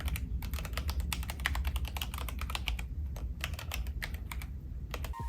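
Rapid, continuous clacking of a GMMK Pro custom mechanical keyboard being typed on up close, with crisp key strikes and no voices.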